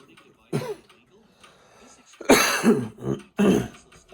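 Several rough, throaty coughs burst out close by, a single one first, then a cluster of harsh hacks with short pauses between.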